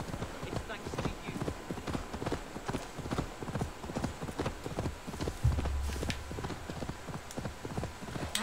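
Horse hooves clip-clop in a steady trotting rhythm in Assassin's Creed Valhalla, close and continuous, with a low rumble briefly rising partway through.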